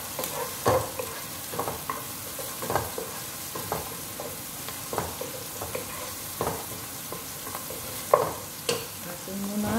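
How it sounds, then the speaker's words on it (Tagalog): Garlic sautés in a pan before mince meat is added, a steady sizzle broken by repeated close scraping strokes of a spatula at an irregular pace. "magigisa na tayo"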